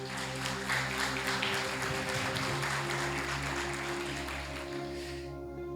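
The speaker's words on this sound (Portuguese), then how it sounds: "Aplaude ao Senhor Jesus." A church congregation applauds, sustained broadband clapping from many hands that carries steadily throughout and fades away at the very end.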